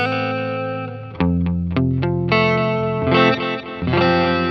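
Electric guitar played through a Wampler Catacombs pedal with the delay time sped up: loud, distorted sustained chords and picked notes, each trailed by quick repeating echoes, with no talking.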